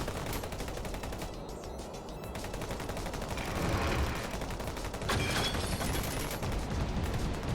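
Dense, continuous gunfire rattles through a video game battle, sustained bursts layered into a loud, unbroken wall of shots with swells in intensity.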